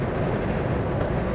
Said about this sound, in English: You can probably hear the wind noise right now.